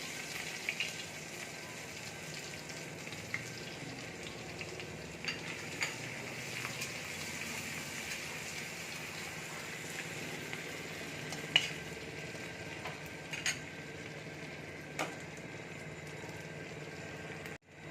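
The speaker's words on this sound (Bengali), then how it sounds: "তেল দেখো গরম হয়ে গেছে, এবার আমি গরম মশলাটা দিয়ে দিচ্ছি। আদাটা গ্রেট করে রেখেছি, আদাটা দিয়ে দিচ্ছি।" Garam masala and grated ginger sizzle in hot oil in a pan, a soft continuous frying hiss with scattered light clicks of utensil against pan, quiet and close with no talking.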